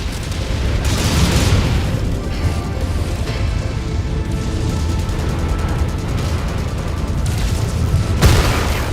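A missile explodes in MechWarrior 5: Mercenaries, set within loud, sustained battle rumble, with heavy booming bursts at the start and again near the end.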